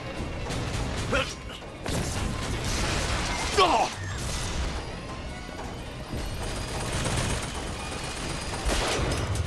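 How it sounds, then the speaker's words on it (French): Gunfire and crashing impacts from the Bioshock Infinite video game fill a dense, continuous barrage of shots and smashes, loud and close throughout, with a sharp clatter near the middle. "je sais même pas ce qui me tire dessus"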